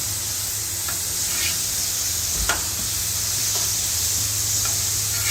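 Chicken fajita meat sizzles on a Blackstone griddle in a steady, close hiss, with a few faint pops and a brief scrape partway through.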